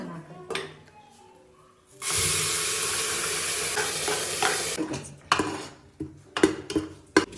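Kasuri methi and onion hit hot oil in a pan for a village-style Hassan boti gojju, bursting into a loud, steady sizzle after a few spoon clinks, then stirring and metal scrapes as the frying settles.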